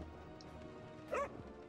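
A cartoon dog in the Overcooked 2 video game gives a single short bark, quiet and brief, over faint game background.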